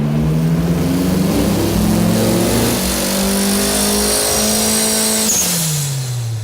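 A loud 600-horsepower turbocharged Toyota C-HR R-Tuned engine revs up hard under heavy boost and holds high, then the pitch drops sharply as the throttle lifts, with a whooshing hiss near the end.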